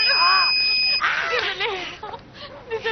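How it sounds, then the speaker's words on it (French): A personal bag alarm shrills with a steady piercing electronic tone at close range, then voices shout and laugh over it as it cuts off. "Ça, c'est une alarme à mettre dans ton sac."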